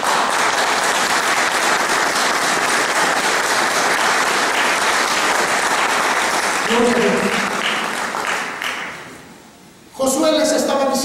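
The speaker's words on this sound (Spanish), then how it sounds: "¿Le da un aplauso al Señor?" A church congregation applauds together in a long, loud, steady burst that lasts about nine seconds, then fades out before other sounds return.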